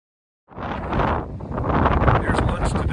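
Strong, freezing mountaintop wind on the Appalachian Trail gusts about 30 miles an hour, buffeting the microphone with a loud, roaring rush that swells and dips after a silent start.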